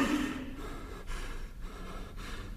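A dying person's gasping last breath, performed in a 1996 Italian stage monologue: a sharp, close gasp at the start followed by a rough, heavy breath that drags on at steady loudness.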